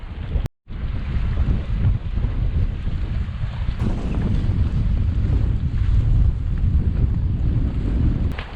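Strong northerly wind buffeting the microphone on the west Clare coast by the sea, a steady loud roar with low rumbling gusts and no speech, briefly cut out near the start.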